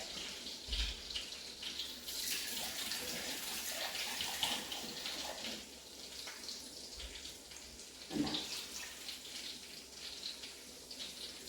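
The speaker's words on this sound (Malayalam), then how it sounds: "കുറച്ച് വെള്ളം കൂടെ ഇട്ടുണ്ട്" Water is poured into a pot of sardine curry, making a continuous splashing gush that varies in strength with a few louder bursts; no one speaks.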